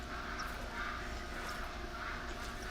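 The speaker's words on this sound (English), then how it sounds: "you can probably tell that the sound of those ducks are getting louder and louder and louder." Ducks in a video game quack repeatedly in an uneven rhythm over a busy background of game ambience, moderately loud and growing closer.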